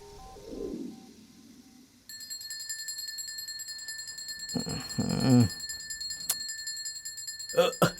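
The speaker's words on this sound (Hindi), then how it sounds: "तेरा फोन बज रहा है यार" A phone ringtone starts up and keeps ringing as a steady electronic tone, with short bursts of talking over it.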